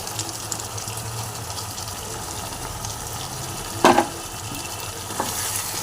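Cashew, poppy seed and green chili paste is stirred into a simmering chicken curry, a soft, continuous sizzle with a louder scrape of the spoon near the end.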